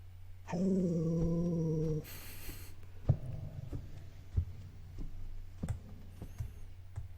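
A dog in The Cat Lady video game gives a single low, sustained growl of about a second and a half, followed by scattered soft thuds and ambient game noise.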